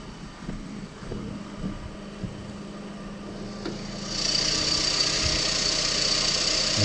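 A used car's engine idles with the engine bay open, giving a steady low hum; partway through, a brighter airy hiss rises and continues to the end.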